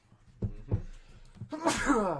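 A single sneeze bursts out at the end, preceded by a couple of sharp inhales and faint background murmuring.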